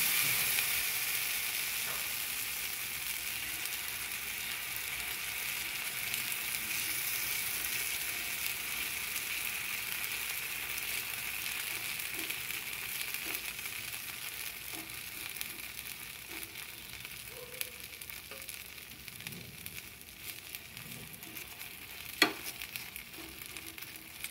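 Potato dosa batter sizzling on a hot griddle, a steady broad hiss of frying that holds evenly throughout and slowly eases, with an occasional sharp scrape or tap near the end.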